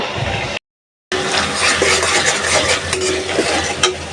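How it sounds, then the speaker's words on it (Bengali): Tengra fish are fried and stirred through masala in a pan for a tomato and potato curry. A steady, loud sizzle carries scraping stir sounds, broken by one brief silent gap. "এই মশলার মধ্যে আমি ট্যাংরা মাছগুলো কষে উঠিয়ে নিব"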